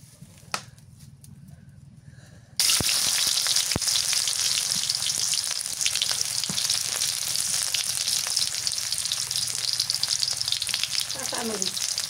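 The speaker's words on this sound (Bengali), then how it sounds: "কচুর ফুল ভাজি করবো তো ওই জন্য তেলানি করতেছি।" Oil heating in a pan for frying taro flowers bursts into a loud, continuous, close sizzle after a quiet start, with occasional clicks and knocks of utensils.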